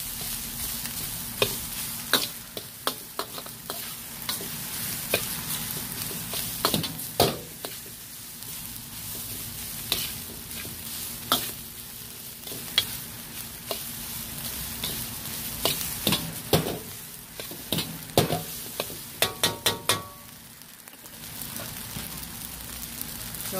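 Chinese sausage sizzles in a hot pan for Yangzhou fried rice, a soft steady frying hiss broken by sharp clatters and scrapes as the pan is tossed, with a brief quiet gap near the end.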